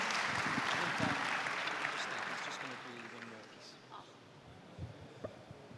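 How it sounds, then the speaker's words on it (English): Audience applause at a badminton federation members' forum, broad steady clapping from a seated crowd that fills the opening seconds, then gradually thins and fades toward the end. "A round of applause for Gracia, please."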